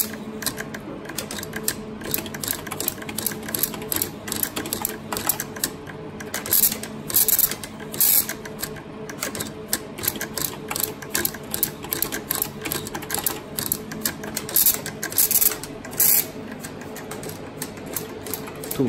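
An ODRA 1305 computer printer prints game output onto paper, giving a rapid, rattling mechanical clatter of bursts and short pauses that runs loud and close for the whole stretch.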